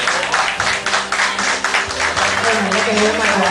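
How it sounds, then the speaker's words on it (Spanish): Wedding guests applaud as members of the wedding party are introduced, a dense, steady wash of clapping that fills the room for several seconds with a voice faintly underneath. "Aplauso, por favor"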